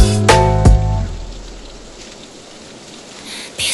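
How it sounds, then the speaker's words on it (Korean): Steady rain falls as a broad hiss that runs the whole clip, following a few brief musical tones at the start and building slightly toward the end. "빗소리가 들려"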